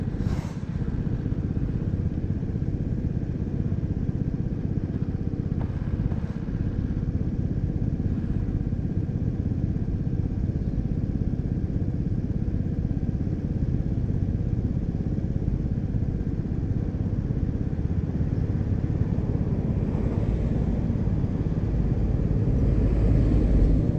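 Suzuki motorcycle engine runs continuously with a steady low rumble and clatter, close and even throughout, with no talk.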